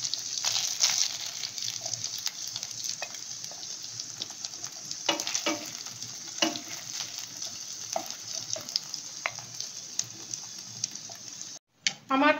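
Paneer cubes fry in a pan of hot oil with a dense, crackling sizzle and scattered pops. It runs steadily close up with no talk, then cuts off abruptly near the end.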